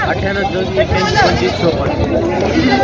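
Goats bleating at the large Vasmat goat market in Hingoli district: several overlapping, wavering bleats repeat close by among a busy crowd, with people talking throughout.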